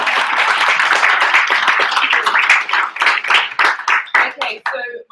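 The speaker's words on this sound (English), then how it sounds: "we have to give them a round of applause" Audience applause at a UX talk event, dense steady clapping from a crowd that thins into scattered claps toward the end.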